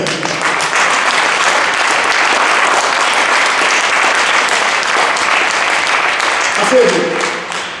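A church congregation applauds and cheers to acclaim the Lord, a loud, sustained wash of clapping and crowd voices that carries steadily before tapering off near the end.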